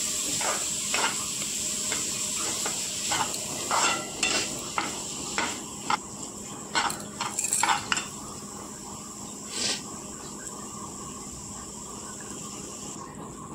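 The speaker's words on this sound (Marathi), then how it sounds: "पनीर टाकून छान मिक्स करून घ्यायचे" Paneer stirred and mixed in a pan for dhaba-style paneer bhurji, with steady sizzling hiss beneath repeated sharp clinks and scrapes of a metal spoon against the pan, close and moderately loud.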